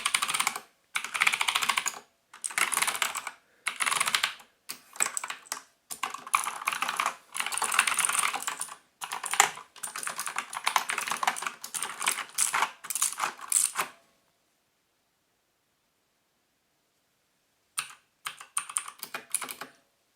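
Rapid typing on a GranVela MechanicalEagle Z-77 mechanical gaming keyboard with blue switches, loud clicky keystrokes in dense bursts for about fourteen seconds, then a pause before a short final flurry.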